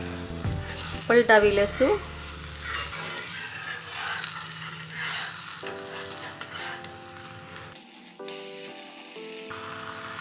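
Wheat flour pudla fries in oil on a pan with a steady, soft sizzle throughout, while a voice speaks briefly near the start alongside a few clinks.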